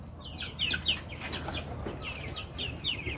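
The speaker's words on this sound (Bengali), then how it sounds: "আমার মুরগির খামার" Chickens cluck on an open-range poultry farm, a flock of short, repeated bird calls at moderate distance over a quiet background.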